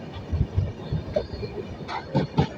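A train on the Araku Valley line in India, heard from a vistadome coach, rumbles along the tracks with rhythmic clunks and clatter from wheels over rail joints, fairly close and steady, with no voices.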